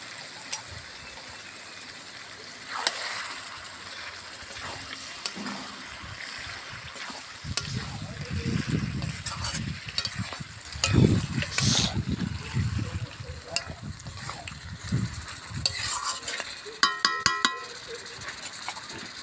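Chicken pieces rubbed with salt and turmeric hit a hot pan for a carrot chicken dish, then fry with a steady low crackle and sizzle, punctuated by scraping and clinking from stirring.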